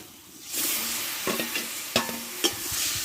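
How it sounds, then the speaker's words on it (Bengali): Mixed vegetables stir-frying with mustard paste in oil, a sizzle swelling in after a quiet start, punctuated by sharp spatula knocks and scrapes against the pan. "এবার আমি সবজিটা দিয়ে দেবো কষা"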